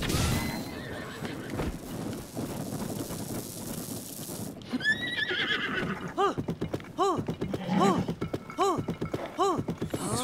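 In Zelda: Tears of the Kingdom, the Golden Horse whinnies loudly in repeated rising calls after a muffled stretch, with clip-clopping hooves and thuds around it during gameplay on a snowfield.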